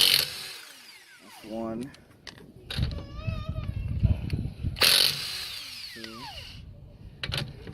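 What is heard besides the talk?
Milwaukee cordless impact wrench removing 19 mm lug nuts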